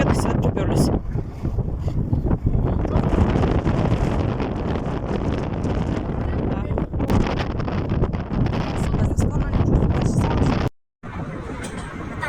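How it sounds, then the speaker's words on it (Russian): Strong wind buffets the microphone outdoors in a loud, continuous low rumble that barely lets up, broken once by a short dropout near the end. "ветер сильный"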